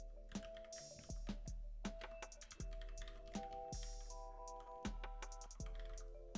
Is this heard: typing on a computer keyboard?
yes